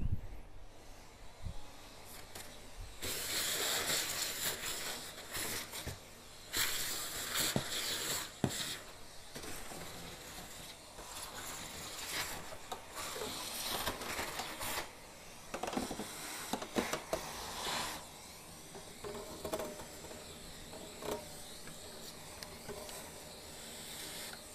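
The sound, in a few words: vacuum cleaner running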